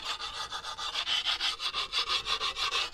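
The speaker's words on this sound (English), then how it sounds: "I'll just take sharpening stone and a little bit of oil on there" A sharpening stone with a little oil rubs back and forth along the rusty edge of a garden edging tool, a steady rhythm of about a dozen close, rasping strokes with no talk.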